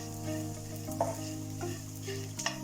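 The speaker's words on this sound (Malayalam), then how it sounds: "ഒരു സ്പൂൺ മുളക് പൊടി നന്നായിട്ടൊന്ന് ഇളക്കി കൊടുക്കാം" Chilli powder stirred into hot oil for an Onam buttermilk curry, a steady close sizzle with soft spoon scrapes and a couple of brief clinks, no talking.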